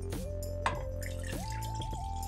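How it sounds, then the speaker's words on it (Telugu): Water poured into a pan on a stove, a trickling, dripping flow with ringing tones that shift in pitch as the pan fills, fairly quiet and heard alone. "వాటర్ పోసుకోవాలి."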